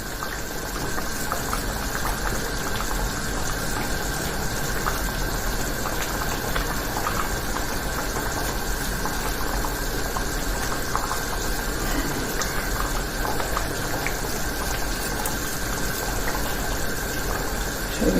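A cooking pot of water boiling hard on the stove gives a steady, close, continuous rush and bubbling that stays at an even level the whole way through, with no voices.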